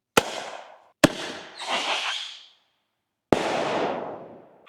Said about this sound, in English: it's just a 4th of July firework which was loaded into one of these shells for wildlife management